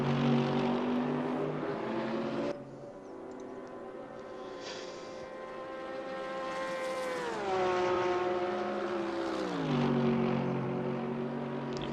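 Mercedes race car engine in a racing video game at Mount Panorama, a loud harmonic engine note rising and falling through gear changes as the car passes, alone with no talk.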